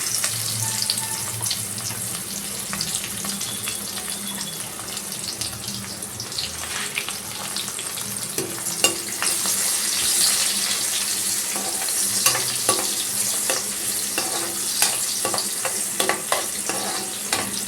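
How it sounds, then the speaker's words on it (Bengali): Onion frying in mustard oil for a fish stew, stirred in the pan, producing a continuous close sizzle with intermittent clatter and scraping of the spoon, no voices present. "এবার আমি পেঁয়াজটা দিয়ে দেবো। পেঁয়াজটা দিয়ে দিচ্ছি।"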